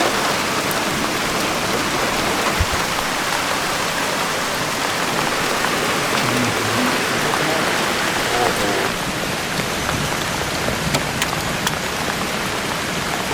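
Heavy rain pours steadily outside a parked camper van beside a river, a dense continuous hiss drumming on the roof and surroundings for the whole stretch, with no voices.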